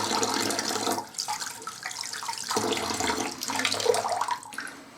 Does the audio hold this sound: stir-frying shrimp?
no